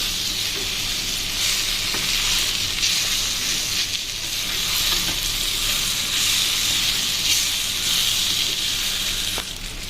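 Grated green mango is stirred into rice in a hot pan, a steady loud sizzle with continuous scraping and stirring throughout, no talk.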